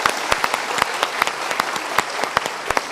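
A studio audience at a motivational talk show claps steadily and loudly, a dense round of applause with sharp individual claps throughout and no talking.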